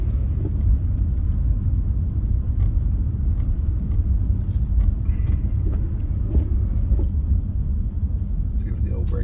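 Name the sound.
car driving on snowy road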